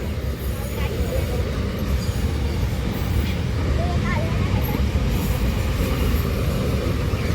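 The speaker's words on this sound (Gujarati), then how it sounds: "જો માલગાડી" Freight train with many wagons passing a level crossing, a steady broadband rumble of rolling wheels heard from moderately near, continuous throughout with people talking over it.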